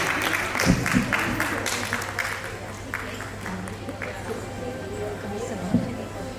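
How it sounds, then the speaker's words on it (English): An audience at a medical conference inauguration in Vadodara applauds the incoming president, steady clapping under continuous talk and a low background hum. "a big applause for the incoming president"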